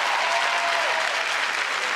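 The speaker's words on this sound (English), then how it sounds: "give Kid Capri a round of applause" A comedy club audience breaks into loud, continuous applause, dense clapping that stays even and close throughout with no talking.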